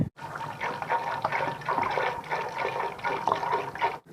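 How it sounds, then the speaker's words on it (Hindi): A glass of water pours into a pressure cooker holding chickpeas, a steady splashing gush lasting about four seconds before stopping abruptly. "इसमें हम 1 गिलास पानी को शामिल और करेंगे"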